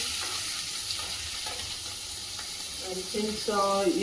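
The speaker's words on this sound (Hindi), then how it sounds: "आतां तेल गरम जालें हांव तितून हिंग घात थोडेशें आनी बटाटे मिक्स कोत्ता" Asafoetida and potatoes frying in hot oil give a steady, close sizzle throughout, with a brief voice rising near the end.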